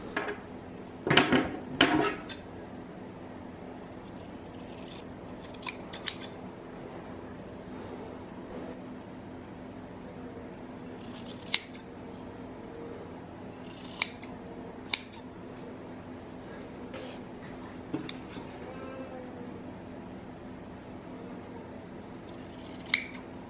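Scissors trim the fringe on a handmade macrame coaster, giving a quick run of snips early on followed by scattered single sharp cuts, close and quiet with no speech.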